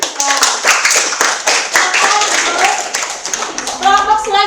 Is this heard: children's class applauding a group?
yes